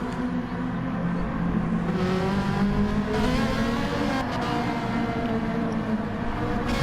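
Race car engine in a racing video game, a Ferrari GT car lapping Autopolis International, droning steadily and loud with rising and falling harmonics as it climbs through revs, continuous and close with no talk.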